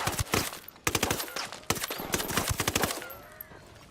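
Gunfire in the video game Ghost Recon Wildlands comes as rapid automatic bursts and sharp shots, loud and close, with short gaps between volleys.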